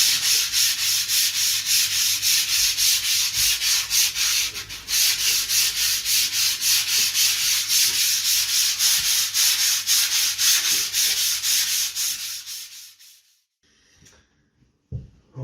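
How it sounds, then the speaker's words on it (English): Hand-sanding magnetic paint on a wall with sandpaper, a close, rhythmic rasping of quick back-and-forth strokes that runs steadily and then stops, leaving near silence. "you're basically just with the weight of your hand just taking the sandpaper onto"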